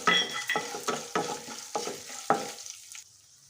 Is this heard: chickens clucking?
no